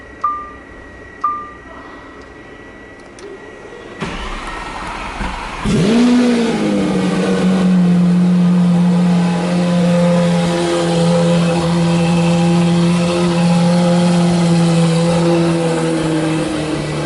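A Lamborghini Aventador SV bursts into a loud, close engine rev that rises sharply and then holds a strong, sustained roar as it accelerates, after a few quiet clicks beforehand.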